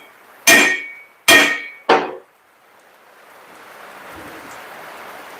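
Three sharp metallic hammer blows land on a 16-spline Eaton rear axle shaft on a workbench, about a second apart and the last one softer, followed by a low steady hiss of room noise.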